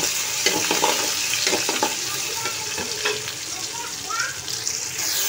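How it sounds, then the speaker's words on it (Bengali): Sliced onions and green chilies sizzle loudly in hot oil in a pan, a continuous close frying hiss with occasional stirring scrapes and someone speaking briefly over it. "দেখো পেঁয়াজ কাঁচামরিচ দিয়ে দিলাম, এগুলি ভালো করে ভেজে নিব।"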